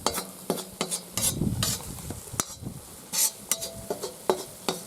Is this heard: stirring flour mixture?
yes